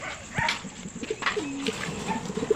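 Pigeons in a loft coo softly in short low phrases amid a busy background with other birds and faint rustling, a couple of brief sharper calls standing out near the start.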